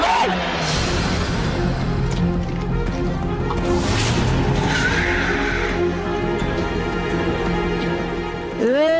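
A car braking hard in a dramatized scene, with a dense wash of engine and road noise, a rising tire squeal near the end as it stops, and busy background activity throughout.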